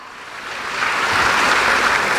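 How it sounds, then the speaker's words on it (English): A large audience at a business awards event bursts into applause that swells from moderate to a loud, dense wash of clapping and holds there, with no voices on top. "Give him a round of applause."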